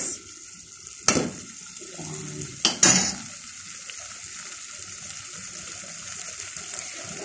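Sardines warming in a pan with a soft, steady sizzle throughout, broken by two sharp clattering bursts of stirring or handling near the start, with low kitchen clatter underneath.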